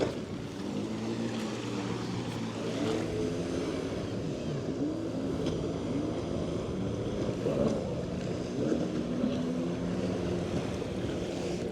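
Yamaha and Sea-Doo personal watercraft on a lake, a continuous engine drone mixed with wind buffeting and water spray, steady and fairly close throughout.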